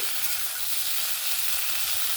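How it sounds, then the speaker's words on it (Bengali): Capsicum frying with salt in a pan gives a steady, close hiss of sizzling that runs evenly the whole time with no pauses, alone with no voices. "ক্যাপসিকামের মধ্যে লবণটা দিয়ে একটু ভেজে নেব"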